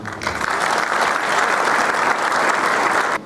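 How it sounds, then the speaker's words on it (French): An audience at a New Year's greetings event applauds a team, a dense, loud, continuous round of clapping that stops abruptly near the end. "je vous demande de les applaudir"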